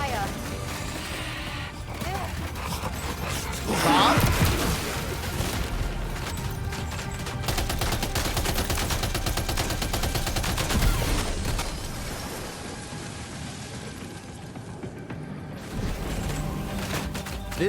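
Gunfire from Death Stranding 2 crackles through a dense, continuous game soundscape, with sharper bursts around the fourth and eleventh seconds under a constant bed of effects and music.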